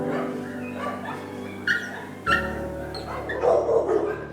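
Dogs at an animal shelter bark, yip and whimper in a busy, echoing chorus, with sharp barks breaking out over a constant background of yelps and whines.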